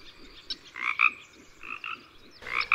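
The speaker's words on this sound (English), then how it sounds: "Frogs and toads just make this huge variety of different types of calls." Frogs call outdoors at night in a neighborhood. Several sharp croaks come in irregular bursts against a quiet background, close and clear, with no talking.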